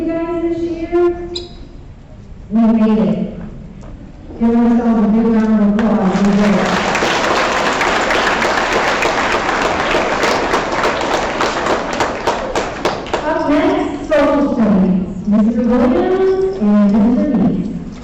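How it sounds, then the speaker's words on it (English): A room of people breaks into sustained applause for several seconds, a dense wash of clapping, with talking before and after it. "Give ourselves a big round of applause."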